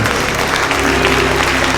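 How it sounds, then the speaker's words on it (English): Congregation clapping hands during a church sermon, a steady dense wash of applause from many people filling the room throughout. "If you've been blessed, you ought to clap your hands."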